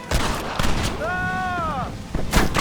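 A Gatling gun in Red Dead Redemption fires in short, loud bursts at the start and end. A brief tonal cry rises in the middle.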